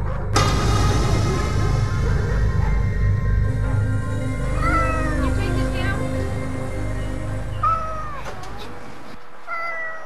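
Several cats in a hoarder's house meow and caterwaul in repeated rising and falling cries, close and loud, over a continuous low hum and clutter noise.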